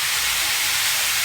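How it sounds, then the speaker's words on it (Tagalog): Pork for salpicao dropped into melted butter in a hot pan, giving a loud, steady sizzling hiss that fills the short moment. "pag nag-melt na yung ating butter, ilagay na natin yung ating pork"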